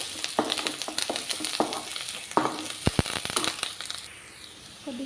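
Curry leaves frying in hot oil in a pan for a chicken skin and ridge gourd curry, crackling and popping in quick bursts with stirring scrapes, close and lively, fading toward a softer hiss at the end.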